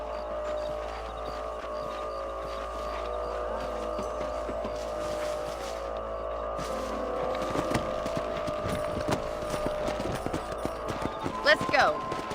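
Horse hooves clip-clop at a steady riding pace in the video game Red Dead Redemption, mixed with game ambience and a faint whinny near the end.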